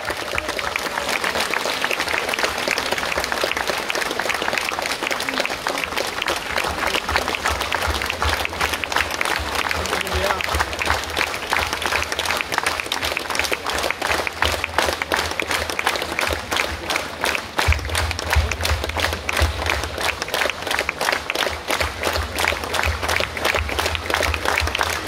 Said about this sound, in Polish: Bardzo proszę o wielkie brawa dla pana Kamila Sikowicza.